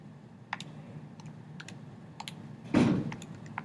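Keys tapped on a calculator or keyboard while entering an equation, a sparse run of quiet individual clicks with one louder cluster of presses near the end, set against a low steady hum.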